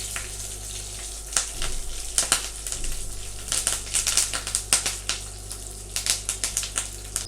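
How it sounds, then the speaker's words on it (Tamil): Dried red chillies and curry leaves fry in hot ghee, giving a steady sizzling hiss broken by sharp crackles and pops that grow more frequent toward the end, close and fairly loud with no talk. "அது கூடவே கொஞ்சமாக கருவேப்பிலை. இது வந்துட்டு இன்னொரு 30 செகண்ட்ஸ் நம்ம ஃப்ரை பண்ணி எடுத்துக்கலாம்."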